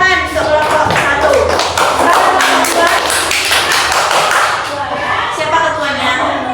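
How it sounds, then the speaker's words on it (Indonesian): Primary school classroom of fifth graders clapping for the first group, a dense run of many small hands tapping, fairly loud and steady with children's voices chattering underneath. "beri tepuk tangan untuk kelompok 1"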